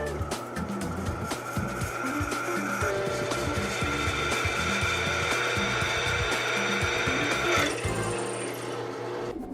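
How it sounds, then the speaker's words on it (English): A power drill bores holes into a flywheel, whirring and grinding in uneven bursts with clattering at close range, and one brief spoken word. "Now, it's time to drill."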